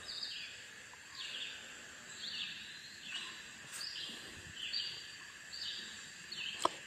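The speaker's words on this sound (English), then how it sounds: "I just like sitting here listening to that bird." A single bird sings in repeated short phrases a second or so apart, fairly faint and distant, over a soft steady outdoor hiss with no talking.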